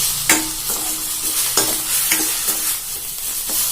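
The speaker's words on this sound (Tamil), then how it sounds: "நல்லா வதக்கியாச்சு கீரையை" Manathakkali greens sautéing in a hot pan for a curd pachadi, with a steady sizzle and several sharp stirring scrapes of a spoon against the pan at irregular intervals, close and fairly loud with no talk.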